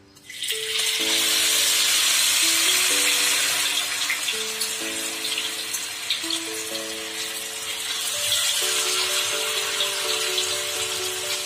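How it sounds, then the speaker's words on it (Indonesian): Continuous loud hiss and crackle of tofu patties frying in hot oil, steady throughout, with soft background music and no talking. "sekarang kita menggoreng pergedel tahunya ya teman minyaknya sudah panas"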